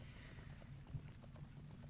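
Faint hoof clip-clop from a stable horse in LOTRO's Middle-earth, a soft irregular patter of steps under low ambient hum.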